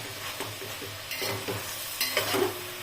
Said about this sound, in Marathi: एकदा पुन्हा आपल्याला भाज्या हलवून घ्यायच्या आहेत